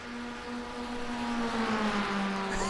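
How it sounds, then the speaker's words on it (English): 2022-spec Ray GR22 Formula Ford race cars in a racing sim, engines droning together in a steady, buzzing, high-revving hum that slowly shifts pitch, moderately loud and unbroken, with no voices. "This is the Ray GR22, so I believe it's a 2022 spec Formula Ford, so it's very much a modern race car."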